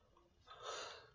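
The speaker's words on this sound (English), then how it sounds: "Such a girly sneeze, not a man sneeze" A single quiet, breathy sneeze with a soft airy burst, faint and close, with no other sound around it.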